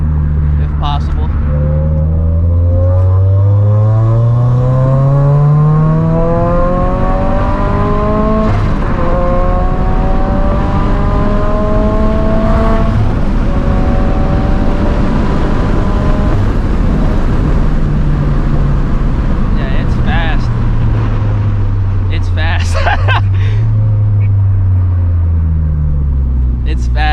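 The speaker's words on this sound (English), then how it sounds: "A little third gear pull, if possible." A turbocharged, catless Subaru FRS fitted with a Greddy turbo makes a hard third-gear pull, its loud engine note sweeping steadily upward in pitch and then falling away as it eases off. Someone talks over the engine.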